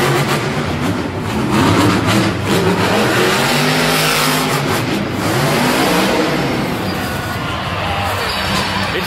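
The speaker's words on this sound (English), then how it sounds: "Oh, revving her up." A monster truck engine revs hard at a Monster Jam arena event, a loud, sustained roar with rising and falling pitch that carries through the full stretch amid crowd noise.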